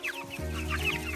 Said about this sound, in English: I can't believe these birds are 2 weeks old.